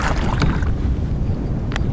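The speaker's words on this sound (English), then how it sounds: "the wind kept pushing on my back end and flipping me around towards the east" Wind buffeting a kayak on a lake: steady low rumbling gusts against the microphone, with brief splashes and water slaps close by, and no talk.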